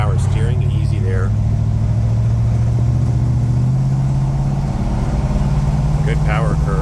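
A 1953 GMC panel truck engine pulls steadily under acceleration, a loud close drone climbing in pitch while someone talks over it.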